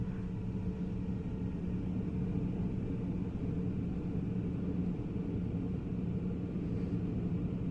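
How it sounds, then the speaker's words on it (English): An Airbus engine spooling back in the FSLabs flight simulator during winter operations, a faint, steady low rumble with a constant hum that stays even throughout, with no voices. "I like hearing the engine spool back."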